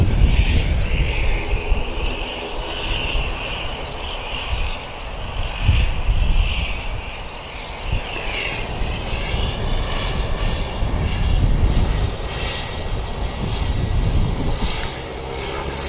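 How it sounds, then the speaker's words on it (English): A five-year-old ATR 72-600 turboprop airliner, flight NZ5326 from Christchurch, at Wellington Airport: loud, continuous propeller and engine drone with shifting tonal hum, close by and unbroken. "That is NZ 5326 from Christchurch. Registration MVP is ATR 72 600, 5-year-old."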